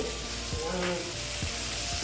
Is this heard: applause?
no